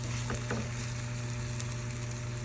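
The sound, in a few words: frying in a pan before adding tomato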